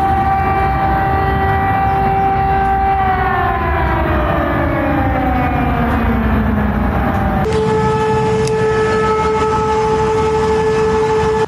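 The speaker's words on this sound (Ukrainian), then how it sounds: "країна-терористка тестує систему оповіщення про повітряну тривогу" A loud, sustained wailing air raid warning siren during a system test in Russia, tones sliding downward, then holding a steady pitch, continuous and overpowering throughout.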